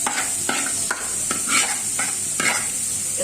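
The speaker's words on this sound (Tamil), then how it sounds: "இப்போ வெங்காயம் வதங்கிடுச்சு பாருங்க. இப்போ கேரட் போட்டுடலாம்." Onion and carrot sautéing in a pan with mint going in, a steady loud sizzle with repeated stirring scrapes at a regular pace, no voices.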